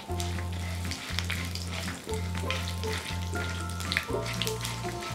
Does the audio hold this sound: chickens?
no